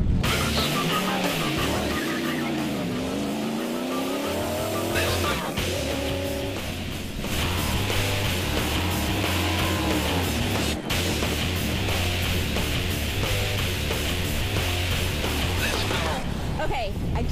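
Indy race car lapping Barber Motorsports Park at high speed, engine pitch sweeping up and down through gear changes with dense roaring noise throughout.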